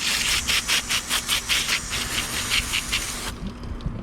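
Pulsing hiss of water spraying onto crabs being cleaned in repeated bursts, close and steady, stopping abruptly near the end.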